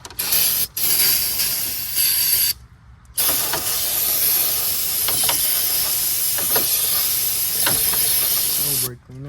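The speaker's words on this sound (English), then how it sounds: "who sprays plastic with brake cleaner?" Brake cleaner from an aerosol can sprays in a long loud hiss broken by short pauses, with clicks and light rattles from the can and parts nearby while working on a Honda Civic.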